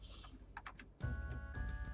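Clicks on a computer keyboard during a session of Brutal Wolfenstein 3D, a few quick close taps followed by a burst of game sound.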